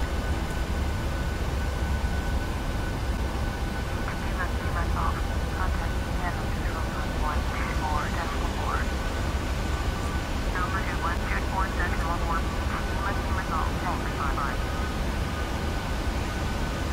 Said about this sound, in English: now we'll take a look at the PMDG 737, a landing here with exactly the same settings.